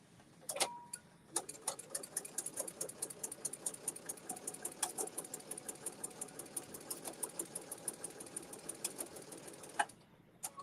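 A sewing machine stitches tucks in fabric with the needle set so every twelfth stitch forms a tuck. It runs steadily at close range for about eight seconds, with a rapid ticking mechanical rhythm and brief clicks at the start and end.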